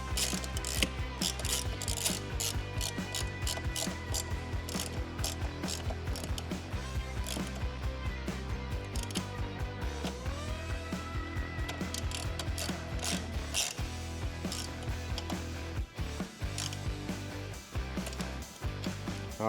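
A hand ratchet tightens bolts on a stainless Harley-Davidson passenger peg crash bar, its clicking pawl running in quick repeated bursts close up, with pauses between strokes and faint background music.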